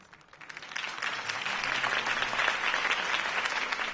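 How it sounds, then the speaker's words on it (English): A crowd claps in the video game Batman: The Telltale Series, the applause swelling quickly and holding steady, fairly loud and sustained. "could have heard that applause"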